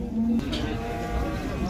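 A young calf moos in a short, low call at a crowded cattle market, heard over background chatter and people talking nearby.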